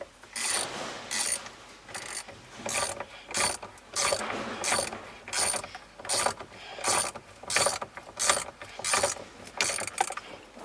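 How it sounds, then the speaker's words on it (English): A ratchet wrench torquing down an NRG Quick Release 2.0 steering wheel hub, with repeated bursts of fast metallic clicking in a steady back-and-forth rhythm, close and clear with no talking. "I'm gonna quickly screw this down. We're gonna get it fully torqued down as much as we can."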